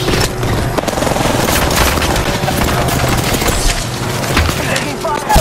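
Dense, continuous gunfire from Apex Legends (Season 17) pours out in rapid overlapping bursts and impacts, loud throughout with faint voices beneath.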